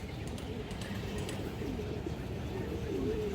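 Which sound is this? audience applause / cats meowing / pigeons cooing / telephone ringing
pigeons cooing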